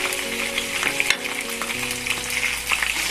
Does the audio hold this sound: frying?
yes